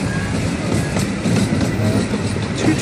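Miniature park train ride at Zilker Park in Austin, a loud close rumble of rolling wheels and rattling cars with faint clicking, steady throughout.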